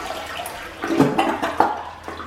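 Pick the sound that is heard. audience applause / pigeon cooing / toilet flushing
toilet flushing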